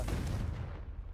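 A Confringo fire spell exploding in the game Hogwarts Legacy, a single loud booming blast that rumbles low and fades out over about a second.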